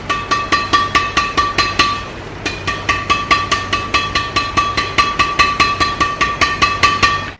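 Badminton racket strung with Ultrasonic 63 string at 27 lbs mains and 29 lbs crosses, its strings tapped in a fast, steady series of bright pinging hits, with a short pause, then more rapid even strikes, close up with no voices.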